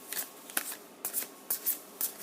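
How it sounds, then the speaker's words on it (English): Tarot cards are shuffled by hand in quick, crisp riffling bursts, about five short close flurries of rustling with brief pauses between them, no talking. "One more shuffle."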